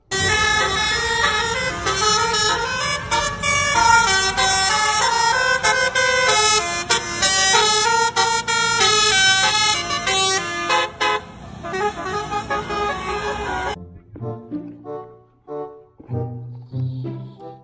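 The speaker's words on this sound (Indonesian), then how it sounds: "yang ini ada bus Wadal Pegasus teman-teman" A PO Fadel Pegasus bus sounds its melodic multi-tone horn in a long, loud, tuneful sequence of notes, repeating over many seconds before stopping abruptly, followed by a few fainter, quieter horn phrases.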